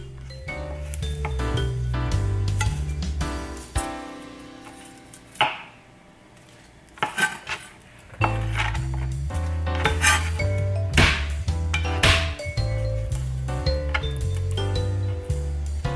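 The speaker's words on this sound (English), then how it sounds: "What I'm doing here is just peeling the garlic" Garlic cloves peeled and smashed by hand for oxtail soup, a busy run of knocks, clinks and rubbing against a board and kitchenware, close and steady with a brief lull midway.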